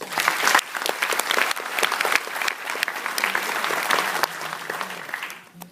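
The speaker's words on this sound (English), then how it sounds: "Please join me in showing our appreciation to Professor Gadek by a round of applause." Graduation audience giving a professor a round of applause, a loud crowded patter of clapping with sharp individual claps standing out, tapering off at the end.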